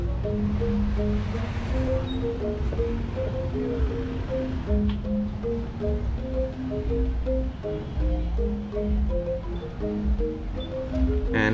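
Surf rolling onto Brava Beach in Canggu, Bali, a steady broadband wash with wind, overlaid by continuous tonal music or background voices throughout.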